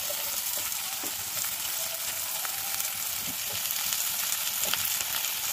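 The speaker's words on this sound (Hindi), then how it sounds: "प्याज और भिंडी बन साथ डालेंगे।" Sliced onions and okra fry together in a pan for bhindi do pyaza, producing a steady broadband sizzle with soft intermittent stirring taps, close-up and even in level, no voices present.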